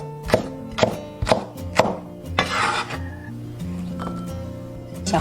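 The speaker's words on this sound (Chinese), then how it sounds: "准备半个红椒，斜刀切小段" Half a red pepper sliced into short pieces on a cutting board with a kitchen knife, giving four sharp, evenly spaced chops followed by softer scraping and a final tap, close and clear.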